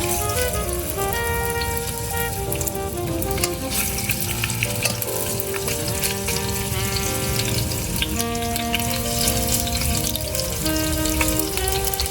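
Italian sausage and short ribs searing in a pan for lasagna, a steady loud sizzle and crackle running continuously throughout, with occasional stirring and no talking.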